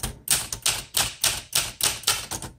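Keys strike steadily on a 1965 Olympia SM9 manual typewriter, about eight sharp, evenly spaced clacks close up, each with a bright metallic snap and short decay.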